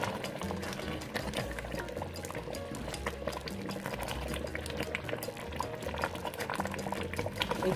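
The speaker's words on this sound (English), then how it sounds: "It's bubbling." Egusi soup boils in a pot, a dense, continuous bubbling and popping close by that holds steady throughout, with no talk.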